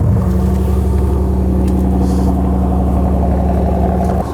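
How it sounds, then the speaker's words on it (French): The stock exhaust of a Lamborghini Urus SE rumbles deep and loud at close range, a steady throaty idle drone that holds level throughout without talk. "je suis étonnamment surpris par le bruit de l'échappement. Je vous laisse écouter"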